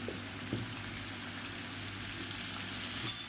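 Plantain pieces with chilli powder, turmeric and salt frying in hot oil, a steady low sizzle with a soft stir near the start and a brief clatter at the end, no talking.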